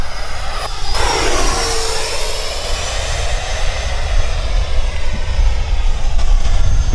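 A Freewing Eurofighter Typhoon 90mm electric ducted-fan RC jet streaks past a runway, its loud, steady whooshing roar with a rising-then-falling pitch sweep as it flies by close, sustained throughout with no voices.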